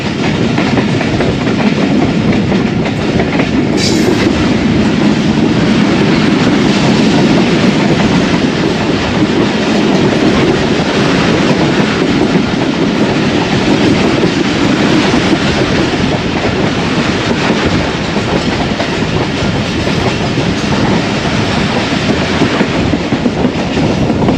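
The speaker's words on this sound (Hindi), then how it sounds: "मेन लाइन पर 10 डाउन अल्लामा इकबाल एक्सप्रेस गुजरने लगी है" The 10 Down Allama Iqbal Express passing on the main line near Raiwind, a loud sustained roar of wheels and carriages with rhythmic clickety-clack over the rails for the whole stretch, no talking.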